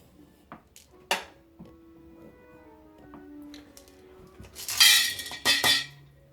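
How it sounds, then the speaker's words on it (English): Gold-bearing gravel poured into a gold pan gives scattered clinks and rattles, then a louder gritty rush of stones landing near the end, close and fairly quiet overall. "I'll go ahead and throw it in the pan."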